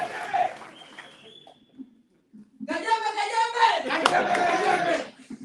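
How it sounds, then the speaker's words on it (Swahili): Audience claps to welcome a youth league leader at a gathering in Narok County, a short burst of clapping after a voice, then louder overlapping cheers and voices. "Vijana Otipi makofi."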